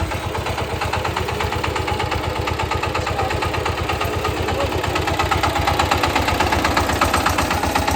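A Zubr 196 motoblock with a radiator-cooled engine runs at a steady idle, its rapid, even thumping close and constant, growing slightly louder toward the end.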